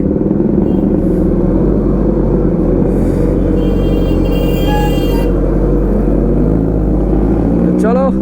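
A loud superbike engine rumbles and revs steadily at close range, with a short horn-like toot near the end.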